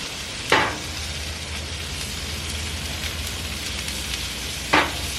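Onions sizzle and fry on a Blackstone griddle, a loud, continuous crackling hiss close by, with two brief sharper scraping bursts at the start and end.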